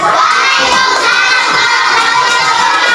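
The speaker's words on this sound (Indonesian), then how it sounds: "Ayo tepuk tangan untuk kelompok 2." A class of students claps loudly for a presenting group, continuous close clapping mixed with children shouting and cheering, dense and unbroken throughout.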